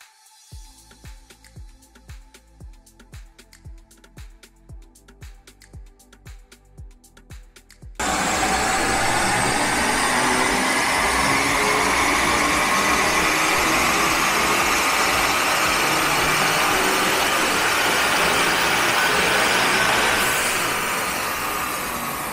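A BMW 530i G30 engine runs at a steady, loud drone after a few seconds of quieter pulsing, holding an even rising tone during remapping, with no talk.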